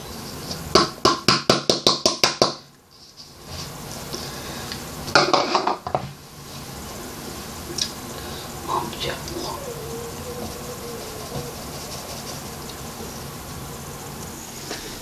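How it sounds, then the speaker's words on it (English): Cocoa powder and flour sifted through a sieve: a quick run of sharp rhythmic taps at the start, another brief burst later, then quieter scattered rustling and clinks. "And also this cocoa powder, which is 25 grams, to give the sieve through."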